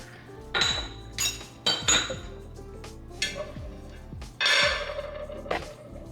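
Whisk strokes against a bowl mixing Splenda sweetener with cinnamon, heard as several separate bursts of clinking, scraping metal on dish, fairly close and loud, with short pauses between and no talking.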